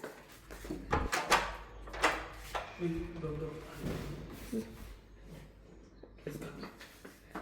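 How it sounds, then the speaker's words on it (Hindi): A house door opens to take a parcel delivery, giving a few soft clicks and knocks at close range, faint under indoor voices. "अभी मैं दरवाज़ा खोल रही हूँ पार्सल लेने के लिए"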